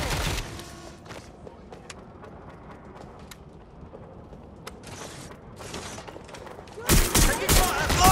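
Automatic gunfire in the video game Watch Dogs Legion, with a sharp burst at the start, scattered mechanical clicks and faint shots through the middle, then a louder rapid fusillade near the end.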